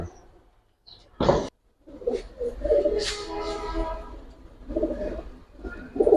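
Giribaz and coloured pigeons coo in a low, throaty warble that swells for a few seconds alongside a brief sharp knock, with scattered faint background noise around them.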